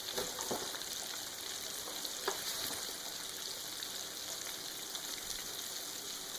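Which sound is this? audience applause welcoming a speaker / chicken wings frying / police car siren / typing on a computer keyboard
chicken wings frying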